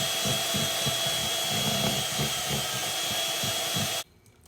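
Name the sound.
whisking lumpy lemon cake mixture until smooth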